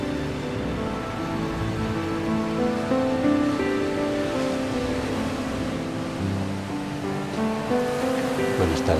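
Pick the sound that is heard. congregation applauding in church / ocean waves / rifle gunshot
ocean waves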